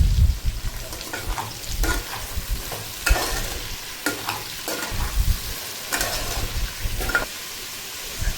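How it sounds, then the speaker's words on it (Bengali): Chopped onion and tomato fry in a pan for a Bengali mutton kosha, a steady sizzle broken by repeated scraping stirs and clanks of the spoon, close and loud. "পেঁয়াজ আর টমেটোটা দেওয়ার পরে একটু নাড়াচাড়া করে নিই।"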